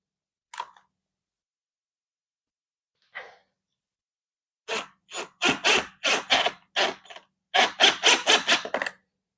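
Screws are driven by hand into an upholstered bed frame with adjustable headboard: two faint isolated clicks first, then a close series of short rhythmic scraping turns in quick bursts, with no one talking.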